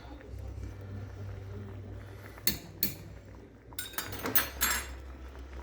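Metal spoon clinking and scraping against a pot while stirring a few drops of liquid smoke into homemade baked beans, several sharp clinks over a steady low background hum.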